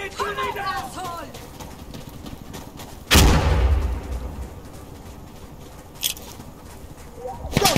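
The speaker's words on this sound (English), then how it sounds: "Grenade!" A grenade goes off in the shooter game Insurgency: Sandstorm with one loud, close, booming blast, set among scattered gunshots and a later crack, while shouted voices ring out in the background.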